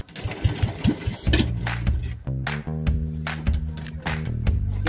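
A small boat motor chugs and drones steadily up close, its rough pulsing note rising and falling in pitch over several seconds.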